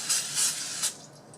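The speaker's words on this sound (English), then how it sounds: "I'm just going to spray it with my cooking spray" Aerosol cooking spray hisses into a baking dish for cauliflower mac and cheese in short bursts, two longer sprays then a brief one, close and fairly soft.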